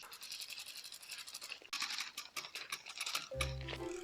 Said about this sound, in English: you can hear the rattle on the dry chain